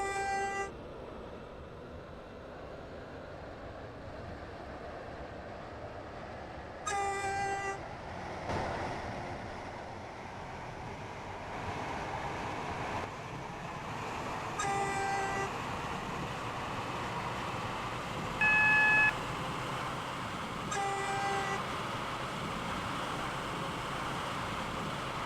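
A train in the Roblox railway game Stepford County Railway runs steadily with a low rolling rumble, punctuated by several short horn toots and chime tones, moderately quiet and with no talk.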